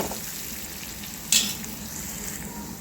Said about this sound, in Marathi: आता यामध्ये थोडीशी कोथिंबीर घालून घ्यायची आहे.